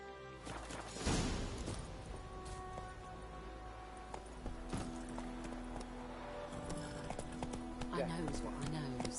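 Horse galloping in The Witcher 3, rhythmic hoof clip-clops at a steady pace with a brief crash near the start, overlaid by in-game voices and someone talking.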